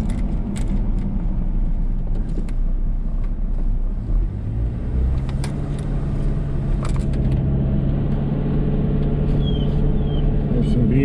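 A car drives slowly through Lake Leatherwood park in Eureka Springs, Arkansas, with a steady low engine and road rumble throughout and a deeper droning hum settling in partway through, heard from inside the vehicle.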